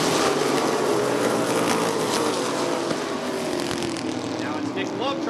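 Race cars racing in a bracket feature at Rockford Speedway, a continuous dense roar of engines with rising and falling pitch as cars pass, loud and steady, with commentary running over it.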